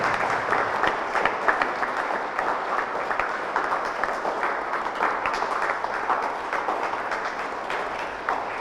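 A congregation at a church Mass claps steadily in sustained applause, dense and even throughout, with no talking over it.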